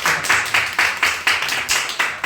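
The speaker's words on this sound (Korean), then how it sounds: "우리 박수로 우리 이정훈 권사님 오늘 또 함께 오셨는데 우리 박수로 격려하고" Church congregation at a Sunday worship service clapping together in a steady, loud, evenly spaced rhythm, with no voices over it.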